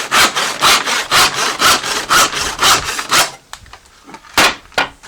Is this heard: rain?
no